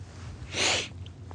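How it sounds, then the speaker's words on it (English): A single wet, congested sniff through the nose, close and short, over a faint low rumble. "you're gonna get a whole lot of me sniffing now"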